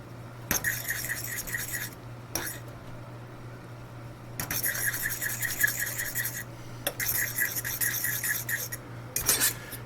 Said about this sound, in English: Do the powder. Give that a nice quick stir.